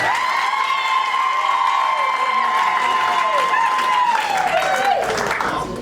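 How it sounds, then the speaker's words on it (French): Wedding guests applaud in a reception hall, a steady crowd clapping heard close and loud, while a long, sustained high-pitched voice or cheer rings over it and then slides down near the end. "Applaudissez pour lui."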